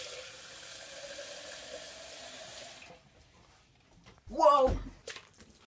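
Water running from a kitchen tap, a steady broadband rush for about three seconds that then stops, followed by quiet and a short burst of louder voices.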